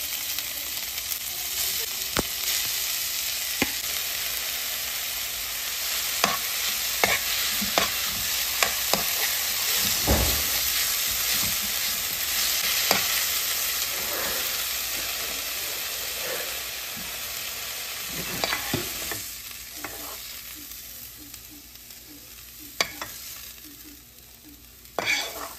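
Fenugreek leaves sauté in two tablespoons of cooking oil in a frying pan for a methi chicken masala, giving a steady sizzle with scattered clinks and scrapes of stirring throughout, no talking.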